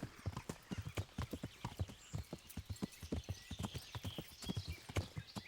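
Rapid rhythmic clip-clop of video game horse hooves at a steady gallop, close and even, with a faint whinny mixed in and no speech.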